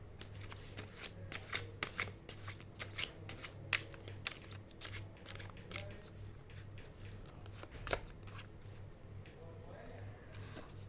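Tarot cards being shuffled by hand at close range, a steady run of crisp riffling bursts and flicks over a low constant hum, with no voice.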